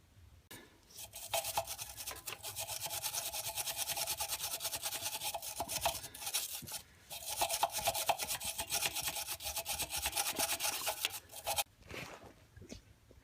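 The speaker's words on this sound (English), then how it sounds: "we're going to first take a wire brush and we're going to get up in here real well and clean that surface" Wire brush scrubbing a metal surface clean at a ground connection point, vigorous rapid back-and-forth rasping strokes, close and fairly loud, sustained for long stretches with a few brief pauses.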